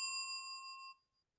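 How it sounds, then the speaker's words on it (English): A single bright bell ding rings out clearly, sustaining briefly before cutting off into silence. "click the notification bell"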